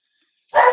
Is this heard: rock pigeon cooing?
no